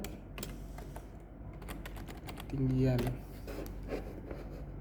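Typing on a computer keyboard, scattered soft key clicks at close range in a quiet room, with a short burst of speech partway through.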